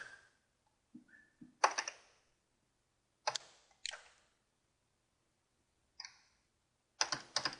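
Scattered clicks on a computer keyboard while filling in a retail activity planner, a few short bursts of keystrokes with long pauses between, close and fairly quiet, no talking.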